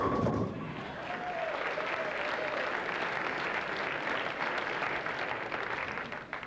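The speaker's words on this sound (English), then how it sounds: "a sedated applause from the crowd" Subdued crowd applause at a 1993 professional bowling tournament match, a steady wash of clapping that holds evenly for several seconds without talk over it.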